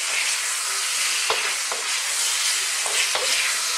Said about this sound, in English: we're just gonna gently fry these potatoes just for like 3 minutes